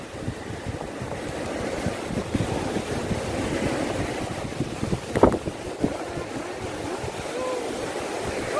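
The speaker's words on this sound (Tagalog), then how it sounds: "naabutan po kami ng malakas na hangin sa laot" Strong offshore wind rushes steadily over a small boat out net fishing, a constant gusty roar mixed with waves and brief knocks, with no talking.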